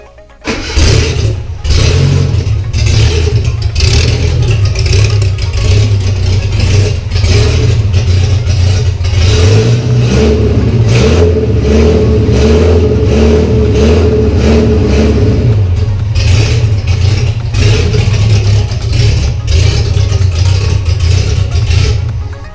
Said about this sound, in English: just in the interest of getting the engine fired up and running, I swapped it back to the original Weber.